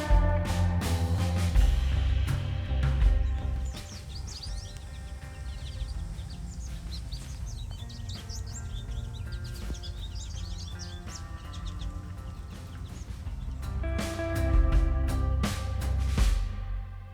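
A flock of goldfinches twittering and calling in quick, overlapping chirps in February in Minnesota, fairly distant, over a low steady background.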